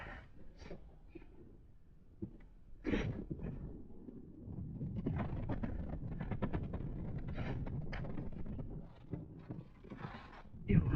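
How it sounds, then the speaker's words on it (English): Strong gusts of wind buffeting the microphone on an exposed Lake District mountain path, rising into a heavy sustained roar with rustling and bumps. "That wind, having to lean into it."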